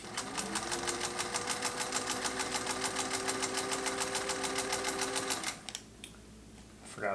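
Green Singer 201-2 sewing machine stitching with heavy presser-foot pressure, a fast even mechanical chatter with a steady motor hum that runs for about five seconds and then stops, followed by a few faint clicks.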